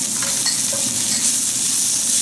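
Garlic cloves going into onions caramelizing in a pan for a Tanzanian fish curry, a dense continuous frying hiss close by with faint stirring scrapes and no talking.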